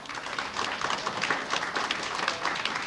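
Audience applause for the orchestra at a festive concert of Macedonian songs, a steady dense patter of many hands clapping, fairly loud and sustained throughout, with no speech.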